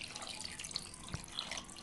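Water pours steadily into a cooking pot of vinegar-seasoned anchovy stew, a quiet, continuous splashing trickle with faint small splatters and no talking.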